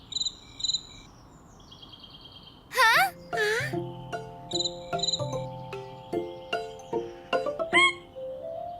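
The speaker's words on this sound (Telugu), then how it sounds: "అరే కీచురాళ్ళు" Cartoon crickets chirping in short repeated trills, joined midway by bright musical tones and twangy cartoon effects, with a steady pulsing rhythm throughout.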